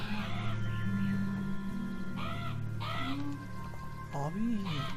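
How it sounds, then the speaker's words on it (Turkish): A crow caws several times in the video game Beyond Eyes, each harsh call arching over a steady low ambient hum, with a voice also present. "Bak yine bir tane karga"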